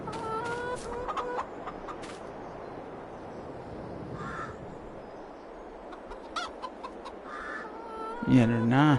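Farmyard chickens and roosters on a small farm, intermittent clucks and crow-like calls scattered over background noise, with a louder squawk near the end and a faint voice in places.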